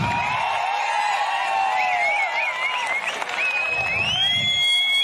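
A crowd at a political rally against petrol and diesel price rises claps steadily and loudly, the dense applause continuing throughout with tonal voices or whistles rising above it.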